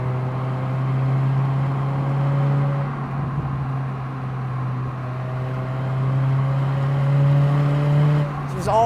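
Engine of a 2007 Honda Fit GD3 pulling uphill on an icy road, a steady moderate drone heard from inside the car throughout, with slight shifts in pitch as it climbs.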